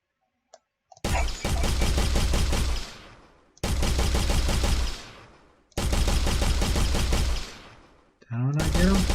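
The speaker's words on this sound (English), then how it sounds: "make sure that this thing is indeed creating the shooting sound" Projectile shooting effect from a video game, heard as three long bursts of rapid automatic fire, each a couple of seconds with a fading tail, loud and close, followed by a short rising electronic tone as a fourth burst begins.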